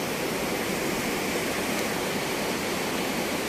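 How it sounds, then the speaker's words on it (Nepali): The Babai river flows at the edge of a national park in Nepal, a steady, dense rush of moving water with no breaks, constant and moderately loud, with no voices. "बबई नदी।"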